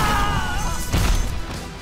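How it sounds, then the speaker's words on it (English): Iron Man's proton cannon fires in the Marvel vs Capcom fighting game, a dense, loud blast with a crashing impact midway, layered with game music and effects. "It's the big one! Proton cannon!"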